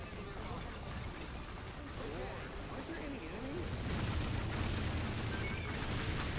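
Video game Earth Defense Force 4.1 produces dense rolling gunfire and explosions in a continuous fusillade that swells louder in the second half, with a faint voice mixed in.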